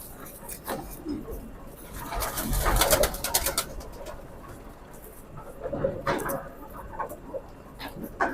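A Kamagar pigeon coos in soft, repeated low calls, close by, over rustling and someone talking at intervals.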